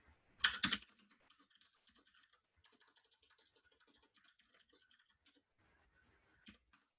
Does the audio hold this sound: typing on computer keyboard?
yes